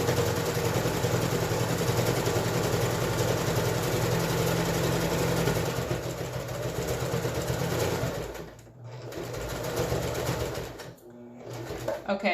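A sewing machine stitches a face mask seam in a steady, close, whirring run, pausing briefly twice near the end while backstitching.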